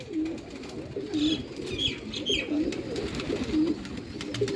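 Several Sialkoti pigeons on a Sialkot rooftop give repeated low, rolling coos, close and steady, with a few faint higher chirps and light rustling in the background.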